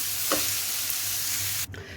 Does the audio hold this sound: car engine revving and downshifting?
no